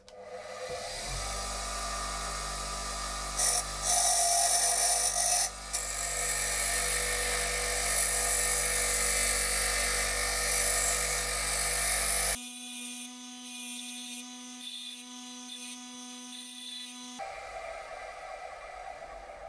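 Angle grinder grinding metal while a job is prepared for TIG welding, a high whining motor running for long stretches, briefly changing pitch, then cutting to quieter tonal hum, close and loud with no speech.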